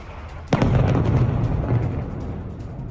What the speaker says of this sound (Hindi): बेरूत के दक्षिणी इलाके में बमबारी।